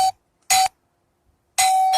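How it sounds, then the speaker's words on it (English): A notification bell chimes in three clear, bright bursts: two short dings, a pause, then a longer ringing tone, each loud and close against near silence. "I gotta get rid of this notification bell."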